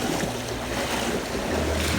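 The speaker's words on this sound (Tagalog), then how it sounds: "Malakas lang kasi yung habagat." Strong southwest monsoon wind at sea, heard from a boat: a loud, constant roar of wind buffeting and water rushing, with no pauses over its short length.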